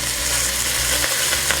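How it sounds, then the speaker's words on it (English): Crumbled hamburger meat sizzles steadily in a hot frying pan, a continuous close crackling hiss with no voices over it. "Yep, it should sizzle when it hits the pan, and it does."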